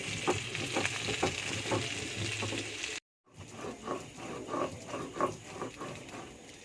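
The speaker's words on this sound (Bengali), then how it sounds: "সেটা মাছটা ভাজা হচ্ছে" Fish frying in a pan gives a continuous close sizzle with crackling pops and rhythmic stirring or spattering, briefly cut off by a silent gap before the frying resumes.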